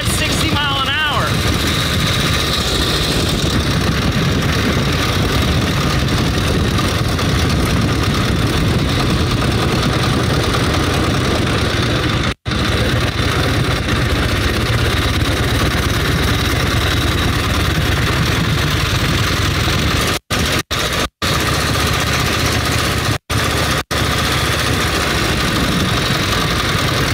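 An old vehicle engine with standard Harley-Davidson gearing runs at a steady, rumbling idle throughout, with someone talking over it and a few brief dropouts near the end.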